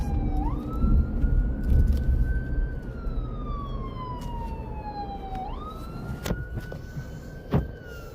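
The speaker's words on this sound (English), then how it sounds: "I hear the sirens, but I don't see them." A wailing ambulance siren in Washington, DC sweeps up and down continuously, moderately loud, with traffic rumble and a couple of sharp knocks or clicks near the end.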